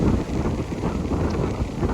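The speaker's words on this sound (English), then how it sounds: "It's ridiculously windy." Strong gusts buffet the microphone outdoors, a continuous loud low rumbling roar with no pause and no voices.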